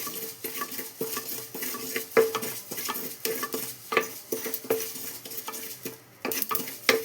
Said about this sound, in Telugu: ఇప్పుడు నువ్వులు వేసుకొని కొంచెం వేపుకోవాలి